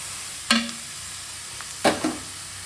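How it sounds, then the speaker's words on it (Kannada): Beetroot tossed into a hot pan and stir-fried for beetroot palya, with two short clattering spatula strokes over a low, steady sizzle. "ಈಗ ನೋಡಿ, ಬೀಟ್ರೂಟ್ ಹಾಕ್ಕೊತಾ ಇದ್ದೀನಿ."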